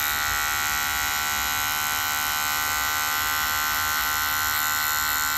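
Hair clippers with no guard fitted, used for a fade haircut and held flat to the head in short strokes, give a loud, steady electric buzz that runs unbroken and close up with no talking.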